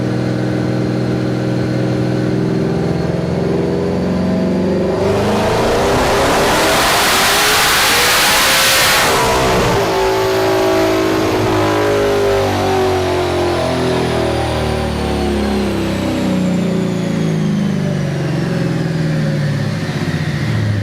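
Twin-turbo Ford Mustang S650 on a dyno, a loud close engine climbing through a hard rev with a roaring peak, then easing down and settling into a steady drone.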